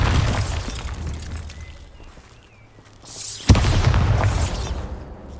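The Bombarda explosion spell in Hogwarts Legacy lands with a heavy boom and a shattering burst, sharp and close, after a louder rumbling stretch dies down into a brief lull, then debris and crackle roll on for a couple of seconds.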